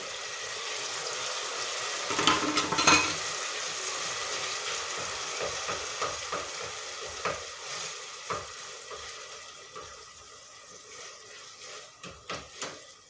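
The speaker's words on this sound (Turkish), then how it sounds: "Domatesle domates sosum şöyle kavrulsun" Onion, tomato paste and tomato sauce fry in a pan with a constant close sizzle, broken by repeated scraping and stirring strokes that become more distinct and rhythmic as the frying quietens.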